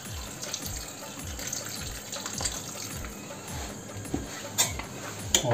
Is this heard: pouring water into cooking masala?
yes